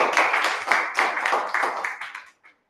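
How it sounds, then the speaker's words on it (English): An audience at a meeting applauds a speaker, brisk overlapping claps close by that carry for about two seconds before stopping sharply, followed by a couple of stray claps. "big round of applause another time for Bulbul"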